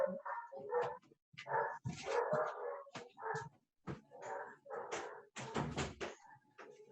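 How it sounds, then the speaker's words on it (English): Two dogs bark in a run of sharp, repeated yaps with a few whiny yips, fairly close and loud, reacting to another dog passing on the sidewalk outside; almost no talk over them. "that's two dogs watching another dog walk by on the sidewalk"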